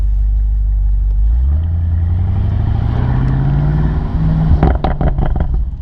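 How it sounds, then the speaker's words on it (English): The V8 twin-turbo exhaust of a 2020 BMW M850i roars during a launch-control start, a deep idle rising into a hard, climbing rev from inside the car, followed by a burst of sharp crackles. "I'm gonna let the car do all the talking or growling, just a point of view with that beautiful V8 twin turbo exhaust."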